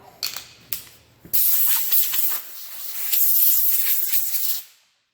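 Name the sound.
blowing dust and debris off a wooden workpiece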